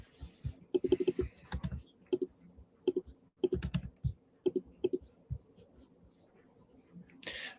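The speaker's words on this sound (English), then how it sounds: "This just sounds like a whole lot of clicking" Rapid bursts of computer keyboard typing, irregular clicks clustered in quick runs with short pauses, close and fairly clear with no talking over them.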